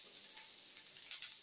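Onion pieces sizzle in a pan of hot oil while making a bitter gourd fry, a steady soft crackle with two brief sharper bursts near the end, no voices.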